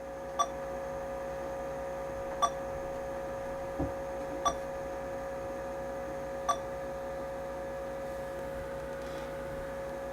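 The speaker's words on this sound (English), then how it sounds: "I'm not sure what the beeping is." A 1987 Zenith Eazy PC, an XT clone, gives short faint beeps at roughly two-second intervals over a steady electrical hum and fan noise, with one low thump between them.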